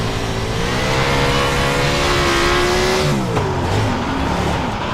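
USAC race car engine in iRacing, revving hard and loud with rising and falling pitch as the throttle is feathered, alone without voices.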